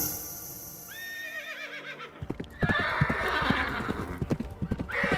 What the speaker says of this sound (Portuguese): Cavalos vermelhos avançando,